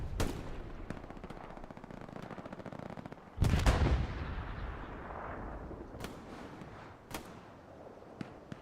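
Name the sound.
rocket explosion and gunfire in video game Hell Let Loose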